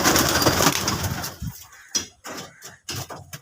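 Old Arshad-line pigeons coo in a Madras pigeon loft, a dense dull layer of low cooing and rustling filling the first second and a half, then a few separate low coos in short bursts with quiet gaps between them.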